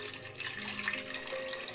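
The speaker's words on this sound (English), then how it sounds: "So basically, you pour on the water." Water pours steadily into a big pitcher, making a continuous splashing, gurgling rush that stays fairly soft throughout, with no talking.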